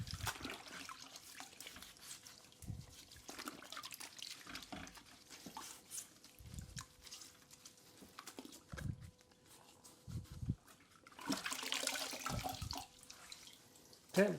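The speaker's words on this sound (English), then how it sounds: "I think I'll rinse this off to begin with. Make sure your float stays clean." Running tap water splashes into a sink while a grout float is rinsed clean, a steady faint gush broken by uneven bursts and swishes as the float moves under the stream.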